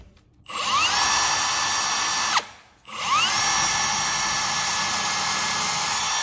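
A power drill whines at high speed close by, stops briefly, then spins up again and runs steadily, struggling under heavy pressure while countersinking.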